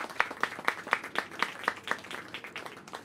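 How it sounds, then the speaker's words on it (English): An audience at a New York City small business event claps briefly, a few seconds of scattered rhythmic hand claps heard up close at a modest level. "can we give them another shout and a round of applause?"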